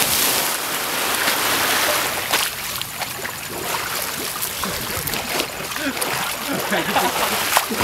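Water splashing and churning loudly up close, with broad bursts of spray and a rushing wash throughout, while voices talk over it.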